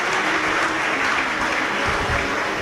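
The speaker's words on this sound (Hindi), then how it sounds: "एक बार जोरदार ताली" Loud, steady applause from an audience at a Shiv Mahapuran katha, a Hindu religious discourse in Sehore, sustained as a dense wash of clapping for the whole stretch with no talk over it.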